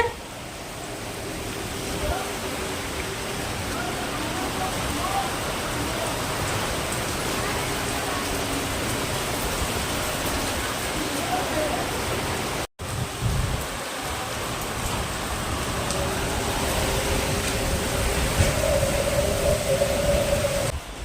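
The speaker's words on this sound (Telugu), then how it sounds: "వర్షం పడుతున్నప్పుడు ఆ సౌండ్ ఎంత బాగా ఉంటుందో కదా" Heavy rain pours down outside a house in the evening, a dense, continuous roar of drops striking surfaces that drops out only for an instant partway through.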